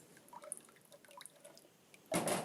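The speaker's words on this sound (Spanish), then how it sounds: "dejemos que escurra el agua" Water drips and trickles from an orchid pot after watering, faint scattered drops at close range, followed by a sudden louder burst of splashing draining water at the end.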